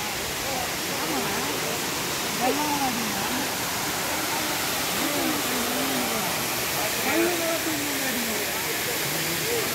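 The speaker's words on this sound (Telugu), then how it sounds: "అద్భుతమైనటువంటి జలపాతం మనం చూస్తున్నాం." Constant heavy roar of a hillside waterfall near the Kailasanatha Swamy temple fills the scene, with someone talking faintly beneath the rushing water.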